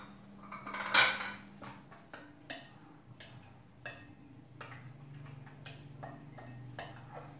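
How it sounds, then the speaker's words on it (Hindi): Spoon stirring dry ingredients into yogurt in a bowl, with irregular clinks and scrapes of utensil against dish, one sharper knock early on, over a faint low background hum. "सबसे पहले मैं ये तमाम अपने जो ड्राई इंग्रेडिएंट्स हैं इनको इसमें दही में मिक्स करूंगी"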